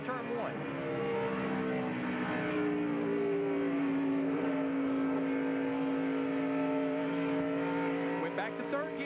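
ARCA race car at Pocono in 2001, engine note rising and dropping as the driver shifts gears without the clutch through a Jericho transmission going into turn 1, a steady loud drone with a voice talking over it.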